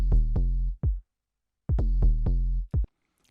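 A bass group with an 808-style tom and Operator synth basses plays alone. It gives two phrases of deep booming notes with short hits, separated by a gap of silence.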